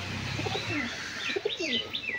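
A few soft, low coos and warbling calls come from a pigeon kept in a fancy pigeon collection, close by and fairly quiet over a faint background hiss.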